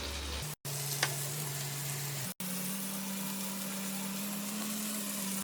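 Tandoori chicken pieces brushed lightly with oil fry in a pan with a steady close sizzle and crackle, broken by two short silent gaps, while a low hum runs underneath.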